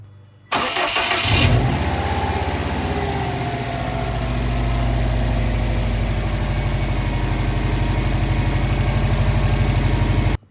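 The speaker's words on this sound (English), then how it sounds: "let's crank her over." A Subaru WRX engine, freshly fitted with a new turbo, cranks briefly and catches, then settles into a steady, loud, close idle with a low rumble that lasts until the end, with no voices.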